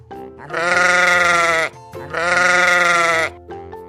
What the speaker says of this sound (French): agneau,